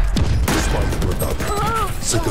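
A grenade explodes in a shooting video game with a sharp, loud blast and a quick second crack right after, followed by lingering game effects and a voice talking.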